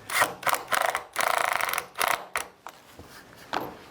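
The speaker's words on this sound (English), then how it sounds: "You might have heard the screw gun rattling and making a bit of noise." A screw gun driving self-countersinking screws into a pedal car bulkhead, with short bursts of rattling, buzzing mechanical noise separated by brief pauses.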